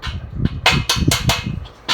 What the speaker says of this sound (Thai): อันนี้ก็ทำการตอก สลักลงไปทั้งสี่ด้าน